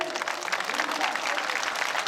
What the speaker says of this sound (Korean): 어머님 힘내시라고 큰 함성과 박수 부탁드리겠습니다.